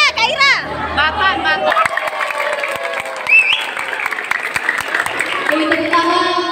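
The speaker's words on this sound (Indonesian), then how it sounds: "Beri tepuk tangan untuk adik-adik kita" Audience clapping for young children at a Maulid Nabi competition event, a dense, steady round of applause with chatter and children's voices mixed in, while a voice talks over it near the start.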